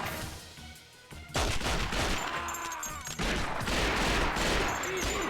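Rapid bursts of suppressed gunfire from a silenced weapon in the video game James Bond 007: Nightfire, loud clustered shots with game sound behind them, one brief pause near the start.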